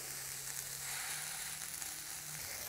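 Diced onion and one minced garlic clove sizzle in a pan while a tomato onion relish is cooked. The frying hiss is soft and constant, with no talking over it.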